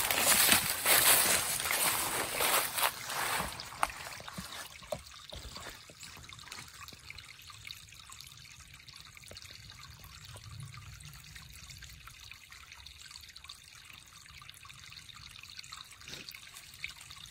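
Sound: spring water trickling into a watering hole

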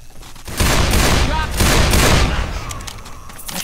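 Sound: gunshots in the video game Heaven Can Wait

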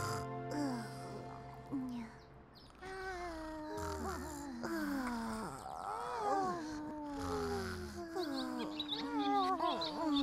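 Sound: baby bird chirping in a cartoon

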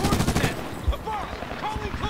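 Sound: AK rifle gunfire in Medal of Honor 2010 video game

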